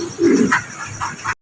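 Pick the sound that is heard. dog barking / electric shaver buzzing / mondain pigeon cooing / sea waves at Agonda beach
mondain pigeon cooing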